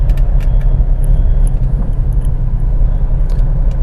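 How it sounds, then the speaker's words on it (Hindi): A car on a driving lesson moves in second gear on the accelerator alone while turning right. Its engine and road noise make a steady, loud low rumble, with faint clicks and rattles inside the cabin. "सिर्फ एक्सीलेटर यूज़ करेंगे सेकंड गियर पे, और मैं राइट जाने की कोशिश करूंगा थोड़ा"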